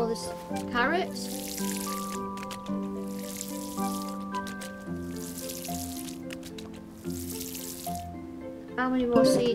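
A watering can in the video game Paleo Pines waters carrots in four splashy, gushing bursts, each lasting about a second, set against gentle game music.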